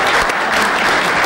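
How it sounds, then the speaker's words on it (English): A close-up magic audience applauds a trick, a brief burst of steady, loud, close clapping from a small crowd. "we have a tremendous round of applause for the gentleman here in the front"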